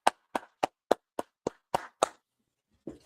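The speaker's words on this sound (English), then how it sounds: "go ahead and clap it up" A gathering in Harlem claps in unison: about eight crisp, evenly spaced group claps in a steady beat, fairly close, followed by a pause and a brief voice at the end.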